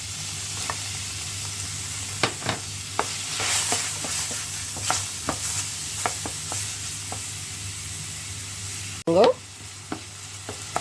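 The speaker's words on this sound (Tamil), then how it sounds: "அதோட நல்ல சின்னதாக கட் பண்ணின வெங்காயம் சேர்த்துக்கொள்ளுறேன்" Finely chopped onion frying in butter or margarine over low heat, a soft steady sizzle punctuated by light utensil taps and stirring scrapes, with one louder clatter near the end, close and without talk.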